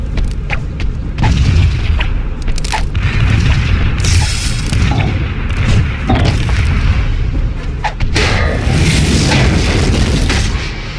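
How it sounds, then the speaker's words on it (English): Grenade explosions in the Hulk video game go off as loud, heavy booms amid continuous low rumbling battle noise, several blasts recurring across the stretch. "Grenades!"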